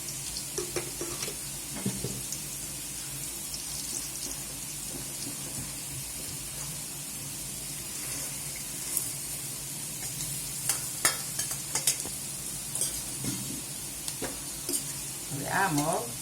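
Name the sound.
moong beans tempered and stirred, sizzling in hot oil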